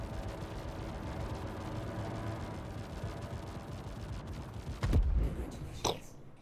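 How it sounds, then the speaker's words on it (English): A steady roar of space combat noise in a flight game, with Hornet ships being destroyed, then two sharp explosive bursts near the end, one loud blast followed by a smaller one. "Explosions!"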